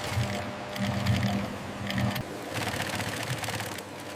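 A sewing machine stitching parts for luxury shoes in a factory runs in steady rapid bursts with a mechanical whir, close and loud, briefly pausing between runs.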